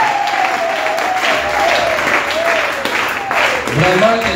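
A church congregation applauds for the Lord Jesus Christ with loud, steady clapping from a close crowd that fills the whole stretch, a voice heard briefly near the end.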